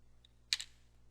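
A single short burst of computer keyboard keystrokes, close and brief, a quick click cluster entering a command with no talking.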